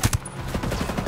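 Two sharp, close gunshot bursts open the clip, followed by a rattle of quieter rapid fire in the background, in the video game Ghost Recon Breakpoint.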